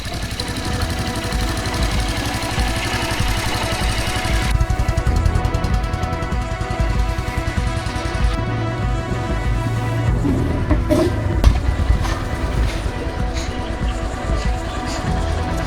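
A Royal Enfield Bullet 350 single-cylinder motorcycle idles while warming up, giving a steady, close, rhythmic thumping engine note that runs on evenly with slight changes in texture.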